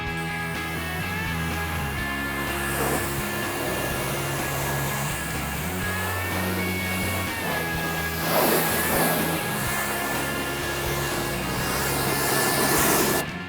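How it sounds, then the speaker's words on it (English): A pressure washer sprays the underside of a car, making a continuous loud hiss of water blasting metal, with a steady machine hum beneath and surges where the jet strikes harder, with no voices. "this pressure washer that we have it's amazing, and I can get the job done in like 5 minutes"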